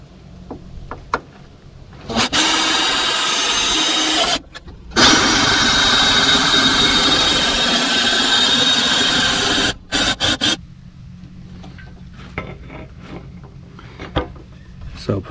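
A power drill bores through a boat trailer frame to mount guide posts, running loud and close in two long sustained bursts separated by a brief pause, with quieter handling noises before and after.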